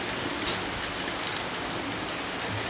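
Heavy rain pours down in a dense, even roar of drops on surfaces, close and constant throughout with no voices.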